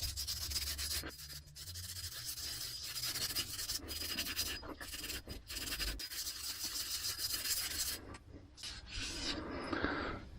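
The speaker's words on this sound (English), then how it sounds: "steel wool, I think, and just give that a light skim to take the worst of it off" Steel wool skims rust off the chrome rod of a leaky excavator boom cylinder in a steady, close scrubbing rasp with short pauses, a few strokes lighter than others.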